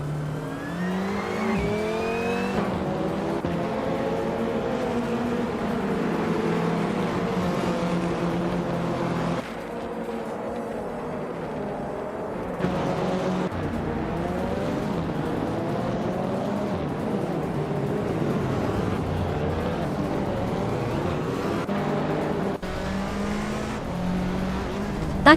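Race cars roar through a racing video game, a continuous layered engine drone with several cars revving and shifting pitch close together, steady and loud throughout with no talking.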